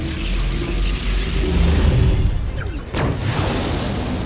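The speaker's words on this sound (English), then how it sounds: "Main cannon! Fire!" Main cannon fire and explosions in the Sand Land video game: a dense mechanical rumble builds, then a sharp blast lands near the end, followed by a lingering crackling boom.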